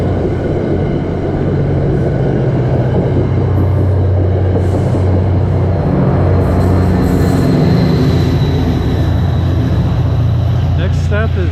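Metro North commuter train passing the Erie Depot station in Port Jervis, New York, a loud continuous rumble of wheels with high squealing building in the latter half, while someone talks over it.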